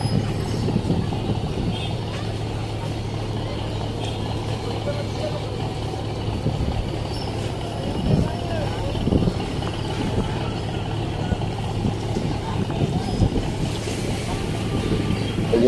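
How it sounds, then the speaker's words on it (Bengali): A fast passenger launch docks at the Munshiganj launch ghat by a pontoon, with a steady low engine drone under wind and water noise and a person talking over it throughout. "যাত্রীবাহী লঞ্চ।"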